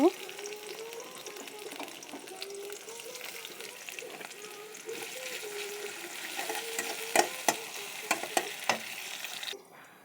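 Chopped onions fry in hot oil in a pot, giving a soft continuous sizzle with occasional stirring scrapes that grow busier toward the end, quiet and close, while a voice talks faintly underneath.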